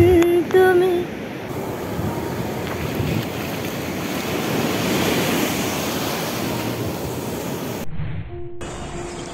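Sea waves wash onto the sand at Dagara beach in Odisha, a loud, broad roar of surf with gusty wind buffeting the microphone, ending in a brief near-silent gap and a faint tone.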